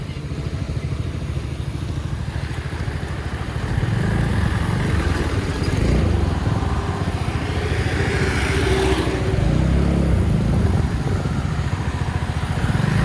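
A motorcycle with a full-system exhaust ridden in the rain, a continuous loud engine drone with rushing wind and road noise that swells in waves as the throttle changes, no talk.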